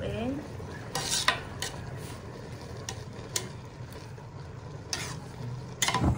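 Buttered chicken biryani rice is stirred in a cooking pot with repeated scraping and clattering strokes of a utensil against metal over a soft sizzle, close and without talk.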